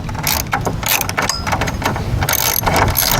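12 mm brake bolts on a scooter's front brake being tightened with a ratcheting tool, producing loud, rapid mechanical clicking in continuous bursts close by, with no speech.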